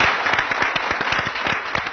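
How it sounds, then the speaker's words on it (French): Dense audience applause for artists at an African diamond show, loud and continuous, many hands clapping together for a couple of seconds. "on applaudit pour les artistes du monde."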